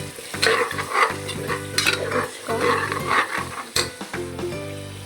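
Field beans (avarekalu) sizzling in hot oil in a pan while a spoon stirs and scrapes them, a continuous close crackle with repeated metallic scraping strokes and no speech.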